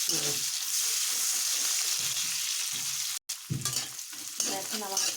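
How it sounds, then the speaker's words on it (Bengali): Onion sizzles as it fries in a pan, with a continuous hiss broken by repeated scraping strokes of a spatula stirring it and a brief dropout partway through. "পেঁয়াজটা ভাজা হয়ে গেছে"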